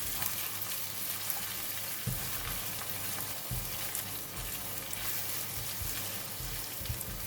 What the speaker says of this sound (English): And I'm putting in a little bit of oil at the side of this pan. And we crack the egg. Cook the egg first.